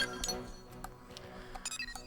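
Glasses clink together in a toast in the video game Xenoblade Chronicles X, a few short bright chinks scattered over about two seconds, close and moderately loud.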